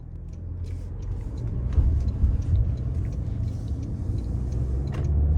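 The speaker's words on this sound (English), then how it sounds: "Let's go ahead and take this 2025 Corolla Cross L out on the road for a test drive." A 2025 Toyota Corolla Cross L driving on the road, heard from inside as a steady low engine and road rumble with faint ticks and rattles, moderately loud and continuous.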